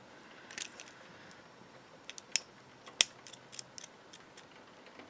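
A mechanical pencil being pressed to push out its lead gives a few small, sharp clicks, the clearest near the middle, over quiet background hiss.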